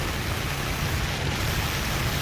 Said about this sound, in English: Little rain squalls, I guess.